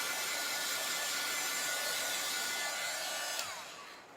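A handheld heat tool blows steadily at close range, drying chalk paste on a craft project, a loud continuous whirring rush that cuts off near the end and leaves only a fading hiss.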